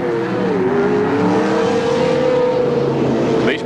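A field of Holden Torana touring race cars pulls away on a warm-up lap at Calder in 1983, engines droning loudly and steadily with a rising pitch, no voices over them.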